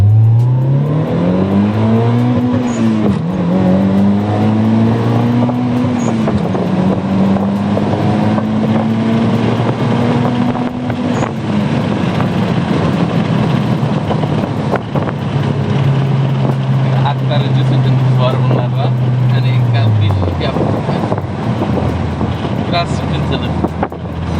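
A Mitsubishi Lancer Evo 7 revs up for a launch, its engine note climbing and falling through several strong pitch sweeps before settling into a sustained drone, loud and close with wind noise and voices talking over it.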